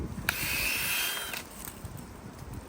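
A drill whines briefly as it bores a maple tap hole into a tree trunk, about a second of grinding buzz before stopping, then quiet.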